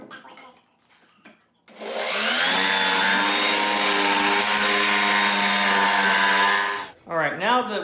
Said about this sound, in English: So now we're gonna take our jigsaw